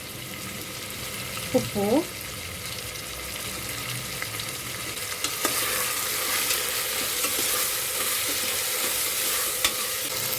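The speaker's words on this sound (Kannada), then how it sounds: "ಇವಾಗ ಈರುಳ್ಳಿ ಹಾಕ್ಕೊಳ್ಳೋಣ. ಎಲ್ಲ ನೀಟಾಗಿ ಫ್ರೈ ಮಾಡೋಣ." Onions frying with turmeric powder in a pan for vangi bath, a steady broad sizzle throughout with a few scraping stirs early on and a brief spoken word near the start.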